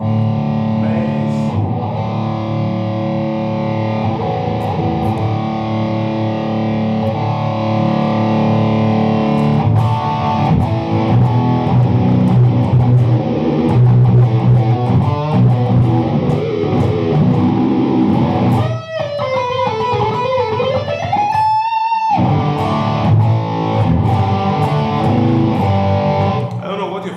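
Heavily distorted electric guitar chords ringing out at length, thick and saturated, with a brief squealing bend and a sudden cut near the end.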